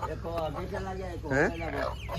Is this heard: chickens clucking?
yes